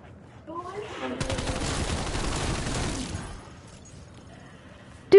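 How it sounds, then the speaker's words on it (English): Rapid automatic gunfire in Call of Duty Zombies, each round set off by small Shatter Blast explosions, rattling densely for about two seconds before dropping to a quieter tail. "If we shoot a bullet, it makes a little explosion."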